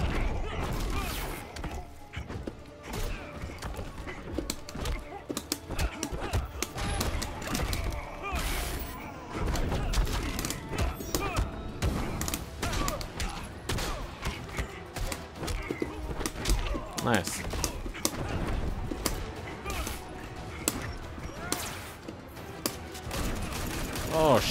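Rapid bursts of video game gunfire from a character in Injustice, dense rattling shots and thuds stacking into near-continuous fusillades across the whole stretch, fairly quiet and mixed with game effects.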